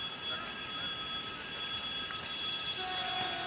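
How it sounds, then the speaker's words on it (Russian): An electric commuter train at Ozerki station in Saint Petersburg, heard close with a sustained rolling rumble and bright tonal whine from the motors, steady and loud throughout. "Ой, электричка."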